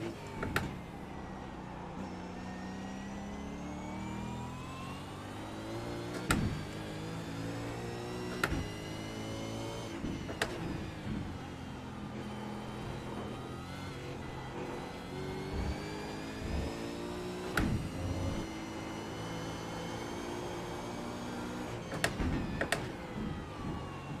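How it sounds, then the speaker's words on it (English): Porsche race car engines in the iRacing video game, several cars revving up and down through gear shifts with rising and falling whines, steady and moderately quiet, with occasional sharp clicks. "the sound of those Porsches are so good"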